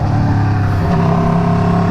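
An Aprilia RSV4 motorcycle fitted with a 520 chain and sprocket runs through quick-shifter downshifts and upshifts, its engine a loud, steady, close-up drone with shifting harmonics and no pauses.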